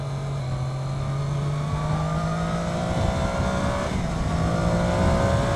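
A 2013-onwards Triumph Daytona 675 sport bike's engine drones steadily while riding, its pitch gradually climbing and holding, heard up close and continuous with wind noise and no talk.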